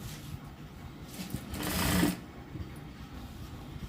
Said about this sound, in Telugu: ఈ విధంగా పెట్టుకొని స్ట్రైట్గా ఒక కుట్టు వేసుకోవాలి